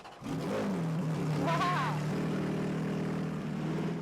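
A race car engine at a driving school founded by an ex-Formula One driver cranks and catches, then settles into a steady, moderately loud idle with a brief rising whine.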